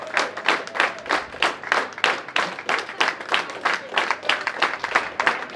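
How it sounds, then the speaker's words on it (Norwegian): Spectators at a national poker championship main event in Dublin clap steadily for a new champion, a dense, rhythmic applause at moderate distance with no cheering voices standing out. "Til stor jubel fra tilskuerne som står og ser på her borte"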